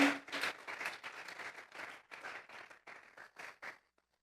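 A church congregation claps for several seconds in a steady, rhythmic pattern of bursts, then the applause tapers off into silence.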